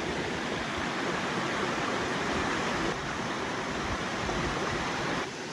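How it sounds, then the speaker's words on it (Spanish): Rushing water at the top of the Los Tercios waterfall in Suchitoto, a broad, steady roar of river flow that stays loud and unbroken, with no voices over it. "estamos caminando en las rocas que se encuentran justamente en la parte alta de la cascada"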